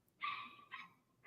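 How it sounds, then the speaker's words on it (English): A dog barks somewhere outside, heard from a ninth-floor room, two short muffled barks, faint and distant, with no talk over them. "hear that dog barking outside? Isn't that crazy? Seems angry."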